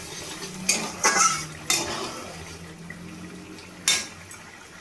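A spoon stirs omelette curry with kasuri methi in a metal pot, giving a few sharp clinks and scrapes against the rim, spaced over a soft, quiet simmer.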